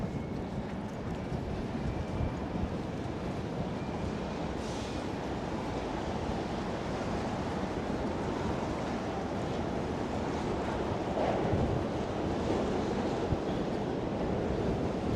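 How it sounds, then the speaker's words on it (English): Steady, broadband wind rushes continuously into the microphone on a snowy Manhattan street in Tribeca, a dense roar with no pauses and no voices. "Oh my God, this wind's really picking up."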